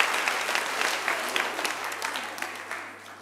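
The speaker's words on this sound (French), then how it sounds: "nous pouvons tous les remercier et les applaudir encore une fois" An assembly applauds to thank priests and deacons, a full, steady round of clapping that gradually tapers in loudness toward the end.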